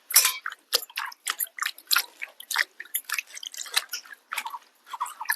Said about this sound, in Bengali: কারি পাতাগুলো ধুয়ে নেব।